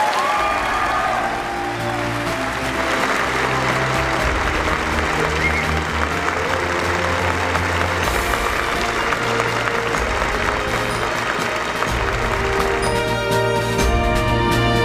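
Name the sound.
audience applause for debate candidates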